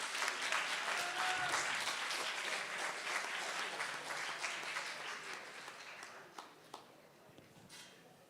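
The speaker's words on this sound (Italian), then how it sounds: "a voi di fargli un grande applauso" An audience at an Italian conference event on the future of Europe applauds warmly, the clapping strong at first and then gradually thinning and fading, with a few isolated claps near the end.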